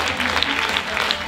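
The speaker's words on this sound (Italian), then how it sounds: "Un applauso per la compagnia teatrale in scena Veritas!" Audience applause at a Christmas Eve music, dance and theatre show in Italy, a dense, steady patter of clapping from a crowd that carries through without any speech.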